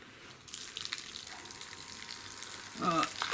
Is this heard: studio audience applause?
no